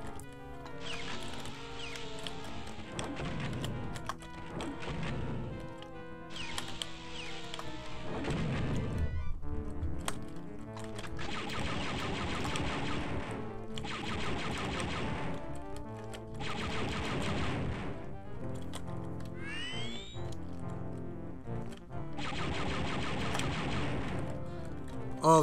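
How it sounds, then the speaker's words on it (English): A sentry turret in the video game Dark Forces fires long, loud bursts of rapid blaster shots, repeating in waves with short gaps between them and a brief whistling laser sweep partway through. "Sentry turret!"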